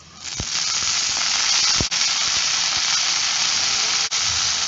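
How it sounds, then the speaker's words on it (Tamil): Washed mint leaves sauté in a pan, giving a steady close hiss of frying with a few soft clicks and scrapes from stirring. "புதினாவை 2-3 நிமிஷம் நல்லா வதக்கிக்கலாம்."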